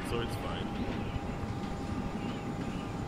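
Helicopter in flight before a parachute jump, a steady rotor and engine drone filling the cabin with a constant hum, while people talk over it.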